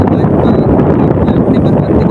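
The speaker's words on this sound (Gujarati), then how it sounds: "પવન જોરદાર છે એટલે તમને કેમેરાની અંદર કદાચ" Strong wind buffets a camera microphone outdoors, a loud continuous low rumble and roar that fills the whole stretch without letting up.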